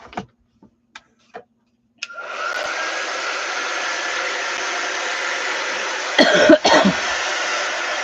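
A hair dryer blows on a homemade Valentine's tic tac toe board, switching on after a few small clicks and then running as a steady, loud, continuous whoosh to the end, with a brief surge in airflow near the finish.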